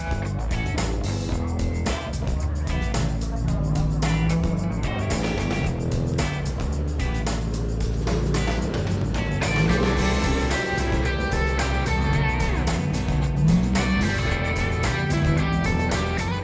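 An off-road truck in the Tuff Truck Challenge climbs up and over tyres with a loud, continuous engine roar and revving that rises and falls throughout, close and dense with no clear talking.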